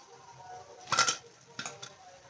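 Fried raw banana vadas are moved into a bowl, giving two brief clusters of clinking and scraping against the dish, fairly close and otherwise quiet.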